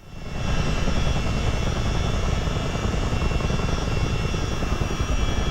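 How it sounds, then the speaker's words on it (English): A US Army Chinook helicopter in Microsoft Flight Simulator, its heavy steady rotor and engine roar swelling in within the first half-second and then holding at a constant, close, loud drone with no voices over it. "So let's pitch the helicopter back to slow down."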